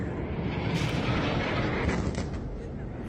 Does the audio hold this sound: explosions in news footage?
yes